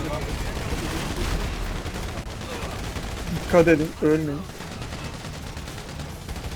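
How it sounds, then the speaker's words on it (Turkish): A helicopter fires machine guns at players during a yacht mission in a video game, with rattling bursts of gunfire sounding under excited, shouted talk between teammates. "Lan helikopter bana sıkıyor."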